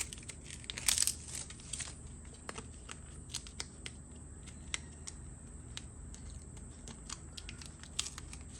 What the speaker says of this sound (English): You can peel this back.